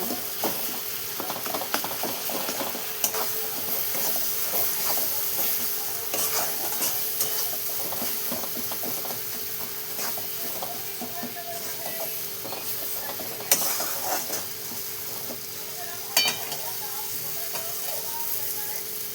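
A spoon stirs ground coconut, onion and garlic paste in a pan, giving continuous soft scraping and faint sizzling throughout, steady and close with occasional louder clinks.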